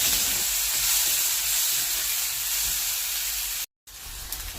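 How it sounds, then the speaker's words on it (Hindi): Green chillies and grated onion sizzle in hot oil spiced with cumin and asafoetida, a steady close hiss with a brief dropout near the end. "उसके बाद इसमें मैंने हरी मिर्च और जो प्याज कद्दूकस किया था वो डाला"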